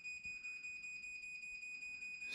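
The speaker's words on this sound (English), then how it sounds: "And it gives a warning beep" A Chamberlain MyQ garage door opener sounds a steady, high-pitched electronic warning beep before closing. The tone is continuous and fairly quiet, with a faint pulsing, and nobody speaks.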